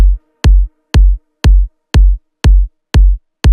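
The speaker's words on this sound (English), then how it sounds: "Kick drum sounds like this." A layered kick drum from a deep progressive house track, built from low, mid and high layers, strikes eight times in a steady four-on-the-floor pulse, each hit punchy and booming, with nothing else sounding between the beats.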